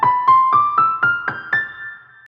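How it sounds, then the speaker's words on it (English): A descending-to-rising run of seven plucked or struck melodic notes in the Aeolian mode, each clear and evenly spaced, stepping upward in pitch with the last note ringing out and decaying, heard alone without voices. "Aeolian mode sounds like this"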